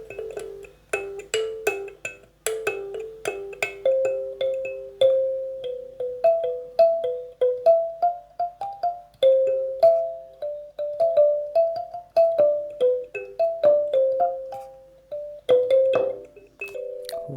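A kalimba's metal keys plucked in a loose, random sequence, bright bell-like notes ringing and overlapping in a steady meandering rhythm, close and clear with no voices.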